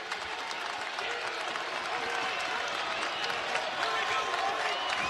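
A crowd in a college basketball arena, Saint Louis against Davidson, applauds in a steady, dense roar of clapping that stays even and fairly distant, with a commentator's voice faintly underneath.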